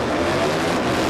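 A Harley motorcycle roars loudly and continuously as it drag races at Warwick Dragway, with a steady, dense engine drone and no voices.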